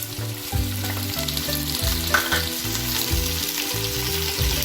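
Tomatoes go into a hot pan for Hyderabadi paneer and sizzle loudly and steadily up close, with a few stirring scrapes over the frying crackle and no talk.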